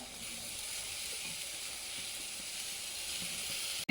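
Soya chunks fry in a pan with ground spices such as chilli, coriander and turmeric powder, giving a steady, even sizzling hiss that stays constant throughout and stops abruptly at the end.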